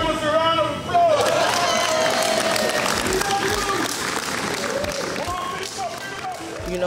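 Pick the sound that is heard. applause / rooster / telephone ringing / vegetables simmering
applause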